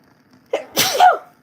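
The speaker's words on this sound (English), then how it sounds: "Excuse me, I had to sneeze for a second." A single sharp sneeze, close and loud, with a quick intake of breath before it and near silence around it.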